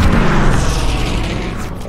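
A bomb explodes in the World War II shooter Call of Duty: WWII, a single loud, close, deep boom that rumbles and slowly fades over about two seconds.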